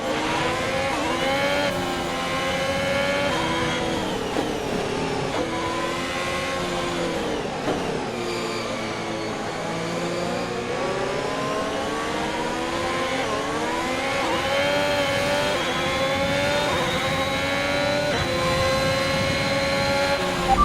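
F1 race car engine in the F1 2021 video game at Zandvoort, a loud, sustained high-pitched whine rising and falling with gear changes and throttle throughout.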